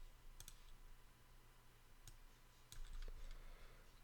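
Keyboard typing on a computer while laying out a page in Adobe Muse, a few faint, scattered key clicks in small bursts over a low room hum, with no talking.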